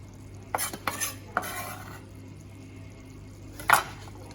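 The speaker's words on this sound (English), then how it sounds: "Give this an extra stir." A spoon stirs black beans in a pot, producing several short scraping strokes with a brief sizzle in between, then a sharp clink of metal near the end.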